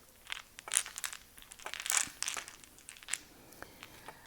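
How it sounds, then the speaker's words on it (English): Mahjong tiles are shuffled by hand on a table, producing soft, irregular clacks and rattling clicks in scattered bursts, fairly quiet and close with no talking. "put them down and give them a shuffle"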